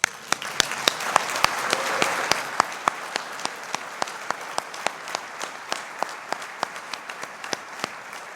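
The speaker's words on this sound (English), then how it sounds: "Let's give them a round of applause." A crowd applauds graduates at a winter 2019 commencement ceremony. Dense clapping swells early, then thins out, leaving a few sharp, close individual claps ringing out over the fading ovation.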